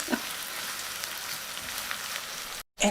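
Grated onion frying in oil and butter in a pan, giving a steady, close, bright sizzle that holds evenly for a few seconds before cutting off abruptly.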